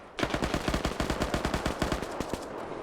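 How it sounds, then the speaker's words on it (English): Sustained burst of automatic fire from an MG4 machine gun in the combat game Operation Flashpoint, a rapid steady rattle of close, loud shots running for over two seconds before cutting off. "This guy really struggling to get a hit with that machine gun. You have an MG4, buddy."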